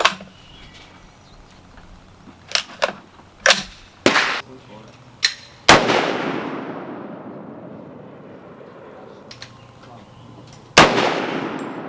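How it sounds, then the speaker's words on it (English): A Diamondback 308 AR10 rifle fires Hornady Whitetail 150 grain FMJ rounds outdoors, with several sharp nearby reports spaced irregularly, the loudest followed by a long fading echo. "We're shooting the Hornady Whitetail 150 grain FMJ first."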